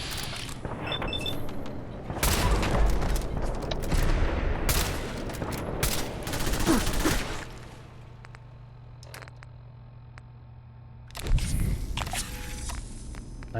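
Gunfire in the video game Fallout 4: rapid bursts and volleys of shots with mechanical clatter and footsteps, broken by a quieter lull before another loud burst near the end.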